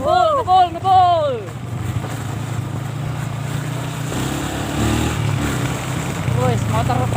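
A motorcycle engine runs steadily outdoors with wind buffeting the microphone, while voices speak and call out loudly over it at the start and end.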